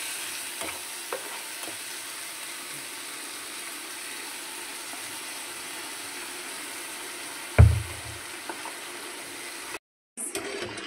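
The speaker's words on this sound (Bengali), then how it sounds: "এই যে আলু মশলা দিয়ে কষিয়ে জল দেওয়া হয়েছে।" Potatoes sizzling in a pan as they fry with salt, turmeric and spices and get stirred, a steady hiss with faint scraping, one sharp clatter near the end, then a brief cut.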